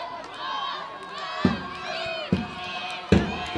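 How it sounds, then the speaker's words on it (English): A large crowd at an RTC FC versus Paro FC football match roars and cheers on the home team, a steady mass of voices with three sharp thumps bursting out above the din. "We're seeing too much crowd out here, exhilarating and cheering on the home team"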